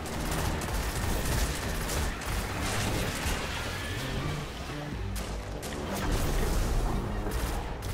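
The Black Spindle exotic gun fires in a video game, producing a dense, continuous barrage of loud shots and mechanical clatter that stays steady and intense throughout.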